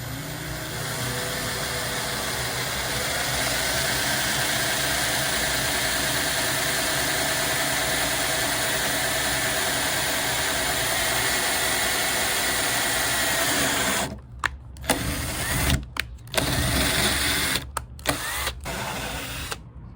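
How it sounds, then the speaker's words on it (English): A power drill bores a hole through a metal flange for a swivel speaker mount, a loud, steady motor whine with grinding that runs unbroken for about fourteen seconds, then stops and restarts in short bursts. "And now I'm going to drill out that first hole that I marked on the flange."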